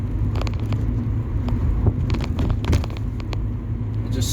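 A car on its first proper drive after restoration, rolling along smoothly with a steady low engine and road rumble, interior perspective, constant and even with occasional light rattles.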